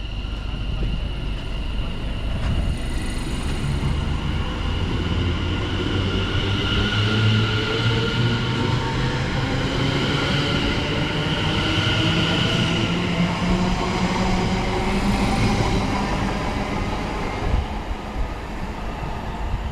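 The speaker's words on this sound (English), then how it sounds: "So this is Cheshunt station." Train standing idle at Cheshunt railway station, its steady engine and ventilation hum filling the whole stretch loudly and continuously, with a broad low drone and faint higher whine throughout and no passing movement.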